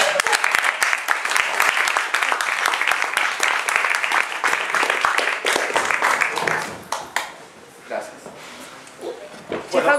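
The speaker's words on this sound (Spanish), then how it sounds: "lo recibimos con un aplauso" Applause welcomes the anthology's text selector at a book presentation for the cartonera publisher Eloísa Cartonera, loud close clapping with sharp individual claps that breaks off midway into scattered claps and low voices.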